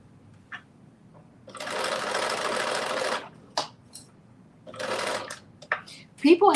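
A sewing machine stitches the sleeve seam of a drop-shoulder long-sleeve top in two steady buzzing runs, the first longer, separated by a pause with clicks and handling noises, and a voice cuts in briefly at the end.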